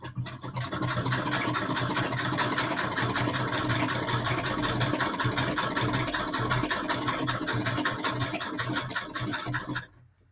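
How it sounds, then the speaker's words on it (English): A sewing machine stitches two patchwork fabric strips together with a 1/4 inch seam, running in a steady, rapid mechanical rhythm that is loud and close for about nine seconds before stopping. "And I'm going to start sewing."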